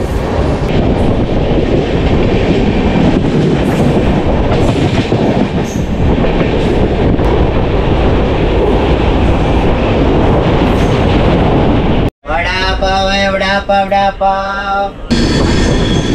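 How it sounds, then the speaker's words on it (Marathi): A Mandovi Express passenger train on the Konkan route rattles loudly along the rails with steady clickety-clack, then a brief cut leads into a high, wavering squeal near the end. "बरोबर 8 वाजता गाडी ठाणे स्टेशनवरून पुढे निघालेली आहे"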